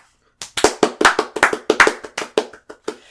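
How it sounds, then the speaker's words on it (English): A single pair of hands claps close and sharp, about a dozen claps in a fairly even rhythm that speeds up slightly before slowing near the end. "Grandmary even has the fucking slow clap moment"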